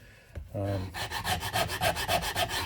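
Rhythmic rasping strokes of a Shinto rasp contouring the wooden neck of a cigar box guitar, steady back-and-forth filing close up and fairly loud, with no talking.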